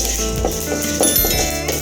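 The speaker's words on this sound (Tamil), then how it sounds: "கருப்பு எள்ளு, இது அடுப்பை சிம்மில் வச்சுக்கிட்டு நம்ம வறுத்து எடுத்துக்கலாம்." Black sesame seeds roasting in a pan over a low flame, soft crackling sizzle with occasional clinks of a spoon stirring against the pan.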